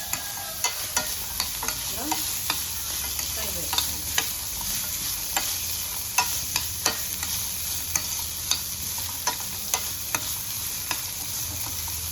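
A pot of 1.5 litres of milk for sheer kurma, boiling with cream forming on top, is stirred with steady, evenly spaced scraping strokes over a soft bubbling hiss. No one speaks.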